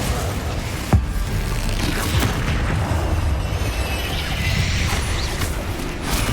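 Explosive spell blasts from the Hogwarts Legacy video game, a sharp boom near the one-second mark over a dense, continuous wash of game combat noise and rumble, with more impacts scattered throughout.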